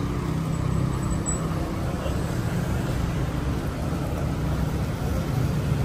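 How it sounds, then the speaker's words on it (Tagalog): Long lines of road traffic in Cebu, a continuous near engine rumble and roadway drone that holds steady and fairly loud, with no talk over it. "Ang haba ng traffic."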